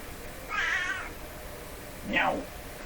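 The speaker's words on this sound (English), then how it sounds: "Oh, I hear cats crying outside." Two cats meowing outdoors, each cry a single drawn-out wail, the first around half a second in and the second about two seconds in, moderately distant against a low background hum.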